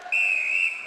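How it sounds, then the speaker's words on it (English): A single sharp, sustained blast of an umpire's whistle at a mixed open netball grand final between Victoria and Queensland, loud and close, lasting under a second. "So the whistle's gone."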